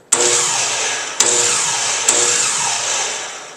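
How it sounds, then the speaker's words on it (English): A power miter saw motor whirs up to full blade speed three times in a row, each start marked by a sharp click and then a steady, loud, high whine that holds close to the microphone. "When you squeeze the black trigger, the blade will start spinning at full speed."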